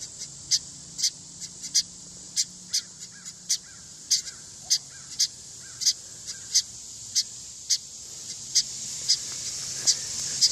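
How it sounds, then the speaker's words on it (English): A baby bird and a parent bird calling at a backyard bird feeder, short sharp chirps repeating at a steady rhythm of about two per second, close and clear over a soft outdoor background. "There is a little baby bird right there."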